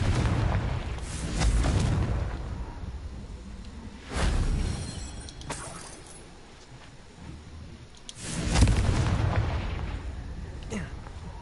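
The Confringo fire spell explodes in Hogwarts Legacy. Several heavy booming blasts come a few seconds apart, each swelling into a loud rumble and then fading over continuous background sound.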